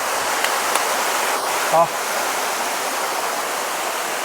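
Steady broadband rush of Hosadevata waterfall near Gokarna, constant and enveloping, with a brief voice-like chirp and a few faint knocks partway through.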